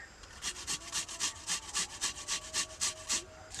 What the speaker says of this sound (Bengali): দেখো বন্ধুরা, কত সুন্দর করে জিরে বাটতেছি।